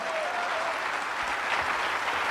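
Dense, steady applause from an audience at a business gathering fills the whole stretch, close and even, with no talking over it.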